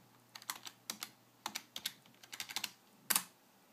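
A password typed on a computer keyboard: a quiet, irregular run of separate key clicks and taps, close by, ending with one firmer keystroke.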